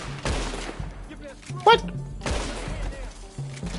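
Gunfire in Red Dead Redemption 2 Online played on PS5: a few sharp game gunshot cracks, including one loud report near the middle, mixed with players talking over voice chat.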